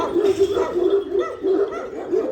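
A big grey female Kangal, a very large Turkish livestock guardian breed, gives a run of deep, repeated barks and yips at close range, steady and loud throughout with no talk.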